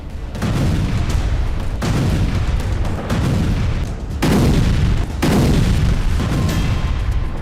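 Air strikes on Gaza set off repeated heavy explosions, several loud booms a second or two apart, each followed by a deep rumbling roar that merges into a continuous barrage.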